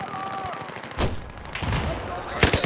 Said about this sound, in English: Firing grenades and all sorts of shit out now.